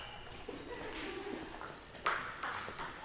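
Table tennis balls bouncing with sharp pings at a table tennis club in Columbus, Ohio, a handful of irregular clicks over the room's steady background hum.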